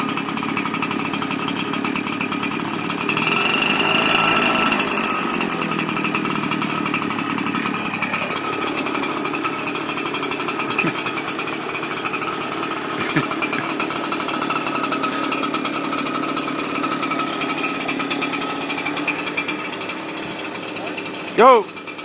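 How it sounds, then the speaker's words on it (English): A wind tunnel runs during a test, a loud continuous mechanical roar with rattling and droning tones that holds steady for the whole stretch, ending with a short knock. "now with the help of my assistant, Vladimir, we'll start up the wind tunnel test"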